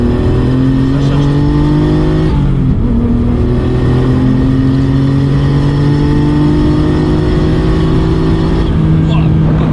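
A Peugeot 3008 accelerates hard at full throttle, its engine note climbing steadily, dipping briefly at a gear change, then rising again with loud road and wind noise close by.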